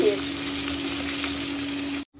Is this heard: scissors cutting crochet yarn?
no